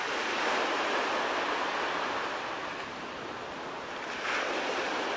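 Ocean waves break on a beach in the Seychelles as a loud, continuous wash of surf with wind roughness, swelling and easing slightly but never letting up.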